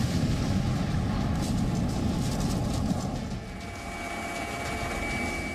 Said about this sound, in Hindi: रूस के मिलिट्री हेलीकॉप्टर स्पेशल ऑपरेशन में लगे हैं।